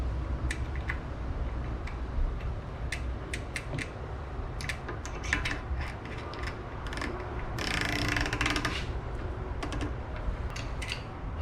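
A greased lock ring is threaded onto a Bontrager Rapid Drive hub on a 2021 Trek Fuel EX 7, giving close, continuous ratcheting clicks and scraping mechanical ticks over a steady low background hum.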